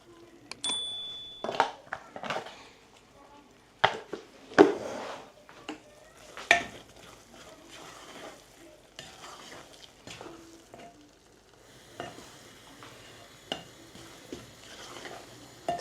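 Semolina and jaggery being stirred in a pan, a spoon scraping and knocking against metal in scattered close taps and soft gritty swishes, fairly quiet, with a short high beep early on and no speech.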